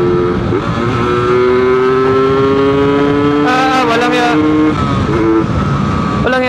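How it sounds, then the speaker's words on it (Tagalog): A two-stroke Rusi RXT 135 Classic motorcycle engine revs loudly up close, its whining pitch climbing and dropping through several throttle blips while someone talks over it. "Habang tumatagal talaga ang two-stroke, tumitining."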